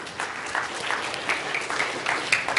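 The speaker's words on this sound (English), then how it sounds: "give yourselves a round of applause" An audience at a church vacation Bible school drama show applauds with a moderate spread of clapping, uneven hand claps popping out of the wash across the short stretch.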